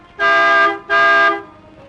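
Two sustained car horn honks in a row, each about half a second long and loud and close, followed by quiet.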